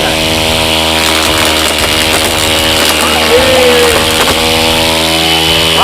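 A homemade grass cutting machine runs loud and steady, a harsh motor whine with shifting pitch, close by and continuous.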